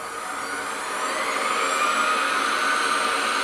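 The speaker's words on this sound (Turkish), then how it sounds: "Tezgahı açalım. 90 en düşük devirde şu anda dönüyor." A Foreman BF 20L benchtop mini milling machine runs at its lowest spindle speed, giving a steady, even mechanical whine and hum that holds level throughout with no voices.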